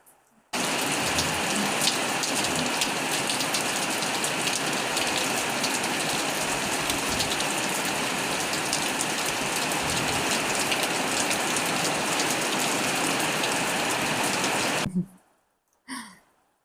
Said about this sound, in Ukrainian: Диви, який дощ починається.